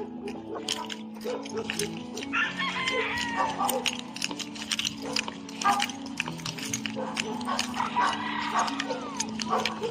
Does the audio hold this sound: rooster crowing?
yes